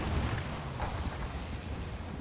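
Mortar shells bursting in the Normandy wargame Combat Mission, a loud low rumbling blast with a rolling boom that fills the short stretch, heard alone without talk.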